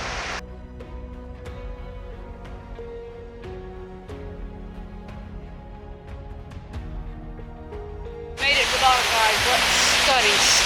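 Gentle tonal music plays first, then a waterfall on the Four Waterfalls Trail in the Brecon Beacons bursts in as a loud, steady rushing hiss of falling water for the last couple of seconds.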